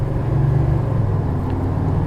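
A 1987 Chevy Monte Carlo SS, parked for over twenty years, drives with a steady low engine rumble and road noise heard from inside the car, humming evenly through a gear change.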